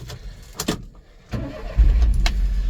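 The small engine of a 1994 Daihatsu Hijet 4x4 kei truck cranks briefly, then catches and settles into a steady, rumbling idle close by.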